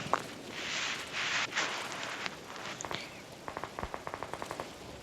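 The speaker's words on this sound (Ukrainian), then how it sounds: "по мені хтось стріляв" Bursts of rapid gunshots in PUBG pop in a quick rhythmic string, preceded by louder hissing blasts and scattered bangs, fairly distant and moderately loud.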